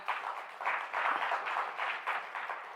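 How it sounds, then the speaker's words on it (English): At a stakeholders' conference, an audience gives moderate, steady applause that rises and falls in waves, heard from some distance with no voices over it. "Let's give him a round of applause."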